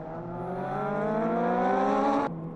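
Race cars in the Challenge V de V round at Le Castellet circuit scream past with a steady, rising high-revving engine note, loud and close, then cut off abruptly as the cars pass.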